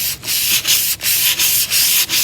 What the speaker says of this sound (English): So I'll do some more sanding on this